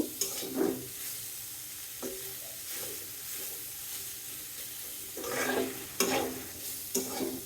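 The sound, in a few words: bitter gourd frying in a pan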